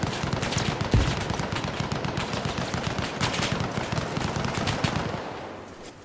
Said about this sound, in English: There is fire in every direction now.